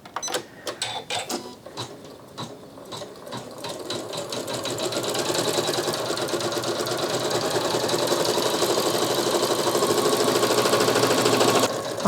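A Janome Skyline S9 sewing machine embroiders at 600 stitches per minute with a steady, rapid mechanical chatter that builds after a few uneven starts and then holds loud and close, with no voices.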